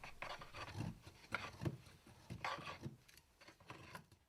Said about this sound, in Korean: 부품 구석구석 일일이 손으로 깎고 다듬는 세심함이 필요합니다